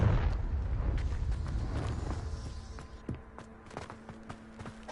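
Confringo fire spell explosion in the video game Hogwarts Legacy, a loud low rumbling blast at the start that fades into crackling debris, followed by scattered thuds and footsteps.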